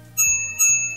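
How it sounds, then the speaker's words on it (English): Two quick rings of a small bell on a Swagtron EB 5 electric bicycle, each a bright metallic ping with a lingering tone, spaced about half a second apart and clearly heard alone. "The little bell."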